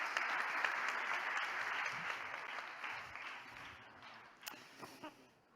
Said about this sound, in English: can we have a huge round of applause for Ari Gargir?